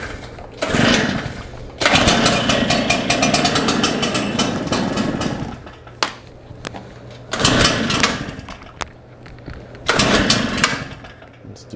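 Shindaiwa EB802RT backpack blower engine pull-started, catching and sputtering in loud bursts that die away, then restarting in short surges and sputters, close by with no talk.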